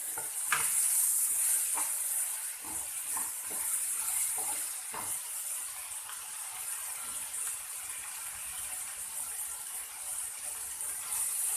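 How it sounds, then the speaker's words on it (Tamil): Sliced bitter gourd sizzles steadily in hot oil in a pan, a bright continuous frying hiss broken by several clinks and scrapes as a spatula stirs the pieces. "நல்லா எல்லா காயுமே நல்லாவே வதக்கணும் எண்ணெயிலே"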